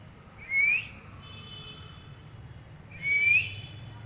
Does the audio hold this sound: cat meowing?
no